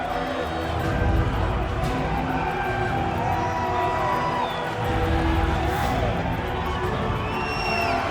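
Loud arena crowd in the Bell Centre in Montreal, Quebec, from the UFC 5 video game, roaring and cheering continuously with whoops rising over a dense wall of noise.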